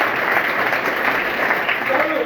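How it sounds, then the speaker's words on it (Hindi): Applause from an audience at a talk on science and the constitution, a dense, steady burst of clapping filling the whole clip. "एक बार भैया के जोरदार ताली।"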